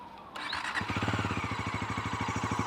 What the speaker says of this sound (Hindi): एग्जॉस्ट सुनाता हूँ इसका